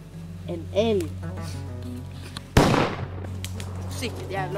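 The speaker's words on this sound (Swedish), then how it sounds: "Sicket jävla skott." A single sharp gunshot from a hunting rifle cracks out midway during a moose hunt, loud and close, surrounded by quieter voices speaking before and after.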